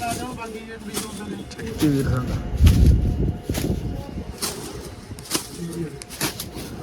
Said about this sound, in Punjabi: ਇਹ ਸਾਡੇ ਨੇ ਮੇਸੀ ਉਸਤਾਦ ਜੀ ਬਨਾਰਸੀ ਪਾਰਟੀ ਦੇ ਜਿਨ੍ਹਾਂ ਦੇ ਕਬੂਤਰ ਨੇ ਜੀ